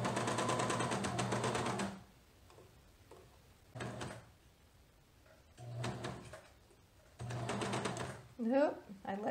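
A sewing machine stitches lace onto a lightweight knit in several short runs with quiet gaps between, and a voice speaks near the end.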